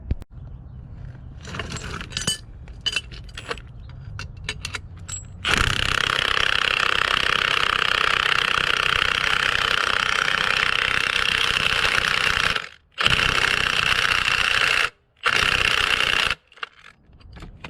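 An impact wrench tightens bolts in bursts: a few short rattles, then a long, loud sustained whir, broken by brief pauses before the last quick hits.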